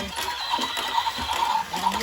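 A horse whinnies in short, wavering cries alongside hoof clip-clops, moderately loud and close.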